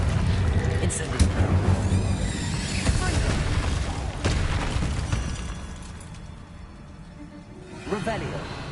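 Fire charm Incendio cast in Hogwarts Legacy combat, loud whooshing bursts and pops among clashing game effects, fading toward the end before a final swell.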